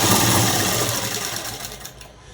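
A sewing machine stitches a night dress, a close, steady mechanical whir that gradually fades and stops near the end, with no talking.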